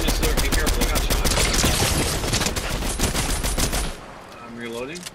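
Rapid automatic gunfire in the video game Fortnite during a ranked match, dense loud bursts of shots for about four seconds before cutting off, followed by a quieter tail.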